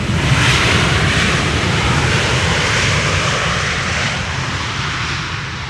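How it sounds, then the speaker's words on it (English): A Delta Airlines jet airliner arriving from Atlanta on Schiphol's Polderbaan runway 18R, a loud, broad engine roar that holds steady and then fades slightly as it passes. "And that was Delta Airlines, Flight 74, having arrived from Atlanta, Georgia"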